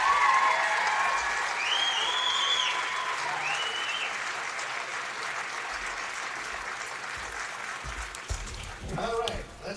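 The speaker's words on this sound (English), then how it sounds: "Give them a real nice round of applause here." A crowd at the New York State Little League tournament welcome parade applauds the final eight teams, a broad, sustained wash of clapping from a field, with voices rising near the end.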